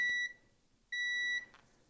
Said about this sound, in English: It should beep. Should be a solid tone.